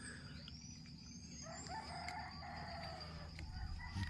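At seven on a misty countryside morning, roosters crow from some way off, one long crow rising midway through, with clucking and a steady low outdoor rumble beneath.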